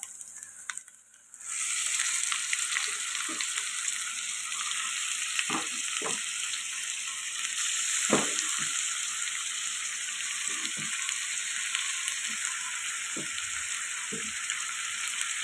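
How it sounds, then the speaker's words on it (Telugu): Chicken pieces hit a pan of frying ginger garlic paste for a chicken curry, setting off a loud, continuous sizzle with occasional stirring scrapes and knocks from a utensil. "ముందుగా కడిగి పెట్టుకున్న క్లీన్ చేసుకున్న చికెన్ని ఇప్పుడు అందులో వేసేద్దాం."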